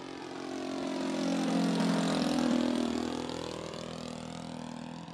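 A small propeller engine buzzes as a Hangar 9 J-3 Cub model plane passes, rising to a loud whine mid-clip and then fading as it moves away, pitch sliding down.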